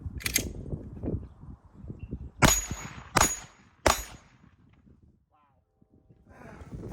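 A SIG Sauer P320 pistol fires three rounds at a 10-inch steel gong 7 yards away, each loud shot followed by a bright metallic clang, spaced under a second apart, with someone talking before and after.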